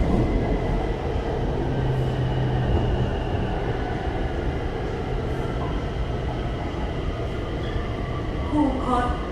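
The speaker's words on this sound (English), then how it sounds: "and then I will take the train back." Bangkok BTS Skytrain car on the Green Line Sukhumvit extension, a continuous rumbling ride with steady wheel and motor noise and faint squeals, heard from inside with low talk underneath.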